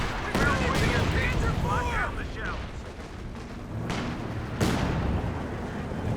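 Heavy shell impacts from a Brummbär assault gun in Company of Heroes 2: two sharp booming hits about four seconds apart over continuous battlefield gunfire, with a voice speaking over the din.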